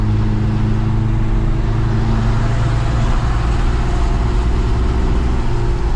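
An old-school Mercedes-Benz car with a loud exhaust driving, its engine drone steady and heavy from inside the cabin, a constant low rumble without breaks.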